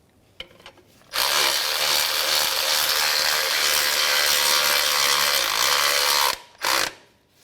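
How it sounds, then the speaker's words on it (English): A power tool or ratchet drives a bolt into the exhaust manifold mounting bracket on a 2011-2016 Hyundai, a loud continuous whirring burst of about five seconds, with brief mechanical clicks before and after. "now we're gonna put our bolt in, holds to a mounting bracket"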